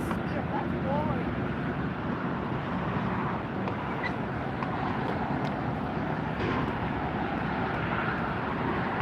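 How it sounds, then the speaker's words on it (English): An Allegiant airliner taxis at LAX, its engines making a steady, moderately distant roar with faint wind noise over it. "Allegiant just rolling into the picture."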